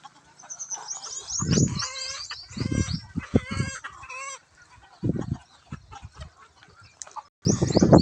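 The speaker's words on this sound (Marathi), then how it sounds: "जवळच या साईडला कोंबड्या आहेत" Chickens and a rooster on a poultry farm cluck and squawk in repeated loud bursts close by, with a crowing call and busy bird chatter between the outbursts, and no voices heard.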